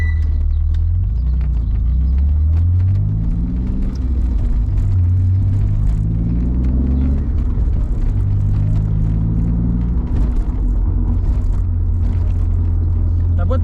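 An Alfa Romeo Spider 916 phase 2 with a 3.0 24-valve V6 of 218 hp drives along, its engine rumbling and rising then dropping in pitch through several gear changes, with speech over the steady drone.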